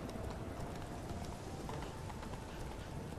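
Horse hooves clip-clop at a steady trot in The Witcher 3: The Wild Hunt, a quiet rhythmic stream of hoofbeats under a constant wash of game ambience.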